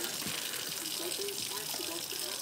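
Water runs from a tap to soak beans for chili, a steady soft gush filling a container. A voice talks faintly over it.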